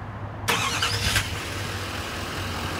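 A 2012 GMC Sierra 2500 SLT with a Duramax diesel engine fires up by remote start, a sudden loud crank and catch followed by a steady, close idle rumble.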